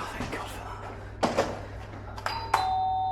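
An apartment doorbell rings in a couple of short bright tones that hang briefly in the air, following soft knocks and handling noises indoors.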